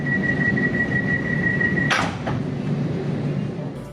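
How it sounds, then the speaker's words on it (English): On an HCMT train, a steady warning tone beeps on, then cuts off as a door slides shut with a sharp burst and a quick click, over constant low rumbling train noise. "The clicking noise in the trains when the doors close is satisfying."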